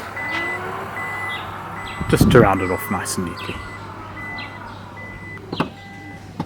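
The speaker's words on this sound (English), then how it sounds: "And of course we have a powered tailgate" A powered tailgate on an Isuzu MU-X closes with a series of warning beeps and a motorised whir, followed by a soft thud, while someone talks over it.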